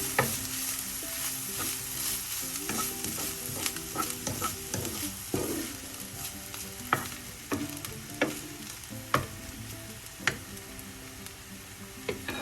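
Snow peas are stirred in a pan with a little water for a stir-fry, giving a soft sizzle broken by repeated close clicks and scrapes of a spoon against the pan.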